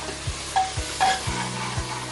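Ginger-garlic paste sautéing in a pan on low gas, a soft steady sizzle with a few short stirring scrapes and light clinks of a spoon against the pan, close and alone without talk.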